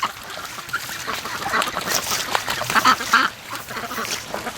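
Free-range ducks in a farmyard, with geese nearby, quack and chatter steadily as a flock, a dense busy layer of calls at moderate distance with no voices over it.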